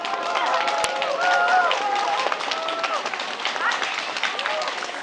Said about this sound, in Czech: tak to dejte najevo nějakým bouřlivým potleskem